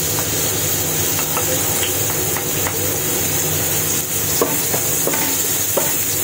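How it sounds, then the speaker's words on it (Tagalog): Garlic frying in a little oil in a pan for Filipino beefsteak, with a dense loud continuous sizzle and faint scattered stirring clicks underneath, close and without talk. "Gigisa natin. Unahin natin itong bawang."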